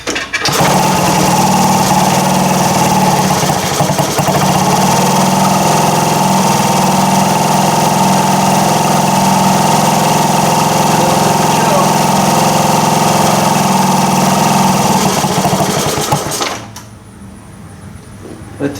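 A 1978 Indian moped engine idling loud and close, a steady buzzing drone that holds for about sixteen seconds before cutting out and dying to near silence.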